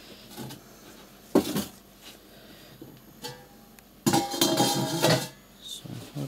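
Metal cooking pots are shifted aside on a stovetop in a home kitchen, giving a few clanking, scraping bursts with a longer clattering stretch near the end, fairly close and without talk.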